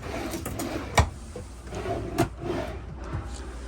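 Drawers in a cruise ship balcony cabin on Liberty of the Seas being opened and closed, with two sharp knocks and softer sliding rubs close by over a low room hum.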